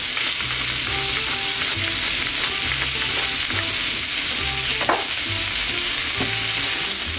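Onions and apples fry in a pan seasoned with salt and pepper, giving a steady close sizzle broken by occasional stirring scrapes and clinks, with no talking.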